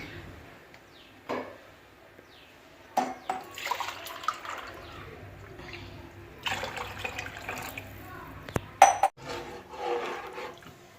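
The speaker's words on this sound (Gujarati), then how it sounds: "3 મોટા ગ્લાસ જેટલું પાણી એડ કરવું।" About three large glasses of water splash and pour into a pot of khichdi in a few separate bursts, with quieter gaps between them and light clatter.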